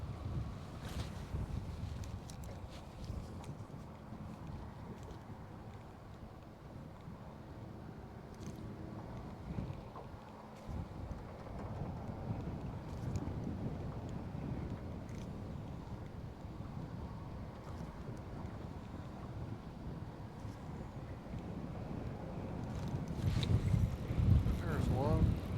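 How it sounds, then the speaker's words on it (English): Wind gusts over open water beside a fishing boat, a low rumbling buffet against the microphone that swells louder toward the end, with people talking over it. "I really hope that wind doesn't get any stronger than that today."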